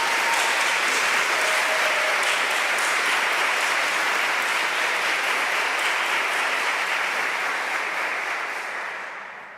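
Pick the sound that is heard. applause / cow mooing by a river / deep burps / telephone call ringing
applause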